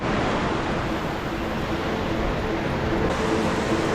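A set of ocean waves breaks on a New Zealand shore in the early morning, a steady, loud, broadband roar of surf and wash with no pauses.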